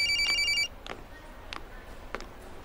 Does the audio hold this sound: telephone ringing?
yes